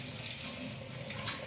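Tap water runs at a kitchen sink during dishwashing after cooking, a faint, steady splashing stream with no voices.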